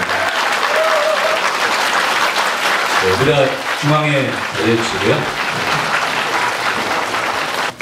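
An audience applauds steadily at a press event introducing a Korean medical drama cast, with a voice speaking over the clapping partway through.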